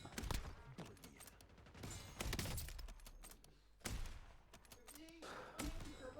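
Rapid bursts of gunfire from a Warzone match, a dense fusillade of sharp shots and thuds repeating across the whole stretch, fairly loud with brief lulls, while a voice speaks intermittently over the shooting.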